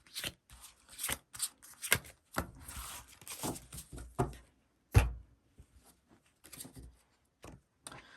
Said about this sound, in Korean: 그 다음에 B를 선택했을 때의 카드를 뽑아보도록 할게요